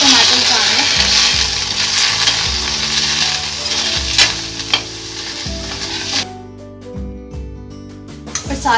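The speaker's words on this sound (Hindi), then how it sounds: "अब ये जो रोस्ट हो चुका है उसमें ये हम चॉप टमाटोस डालेंगे।" Chopped tomatoes hit a pan of roasting masala, giving a loud close sizzle with spoon scrapes and knocks, under steady background music, and the hiss fades toward the end.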